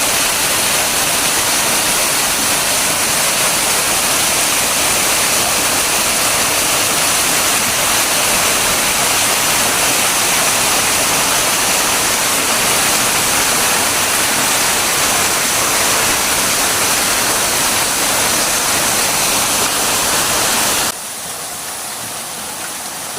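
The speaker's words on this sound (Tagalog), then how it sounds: "Waterfalls, tatlong waterfalls siya." Water pours steadily over a set of three waterfalls among large rocks, making a loud, continuous, broad roar that stops abruptly near the end.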